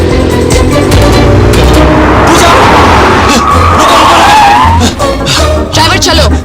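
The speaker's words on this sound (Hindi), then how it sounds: "ड्राइवर, जल्दी से उस गाड़ी का पीछा कीजिए।" Cars skid and roar in a Bollywood comedy car chase, a loud continuous engine and tire rumble with squealing sweeps and sharp bursts, as shouting voices come and go over the din.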